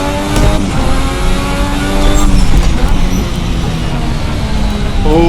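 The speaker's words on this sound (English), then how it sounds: "a car from 46 years ago, revving higher than a modern Formula 1 engine" A 1986 Formula RSS V6 race car in Assetto Corsa screams at very high revs, loud and continuous, with the pitch wavering through gear and throttle changes.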